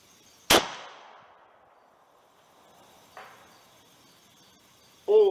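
A single sharp, loud report from a .58 caliber Zeus air rifle fired at a 50-yard target, with a decaying tail, then a faint distant tap and a brief ringing tone near the end.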